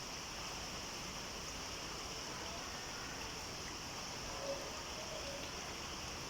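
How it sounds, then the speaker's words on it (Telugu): Rain falls after three days of wet weather, a faint, even hiss of drops heard from a distance and continuing without pause. "వర్షం 3 రోజుల నుంచి వర్షం పడుతుంది"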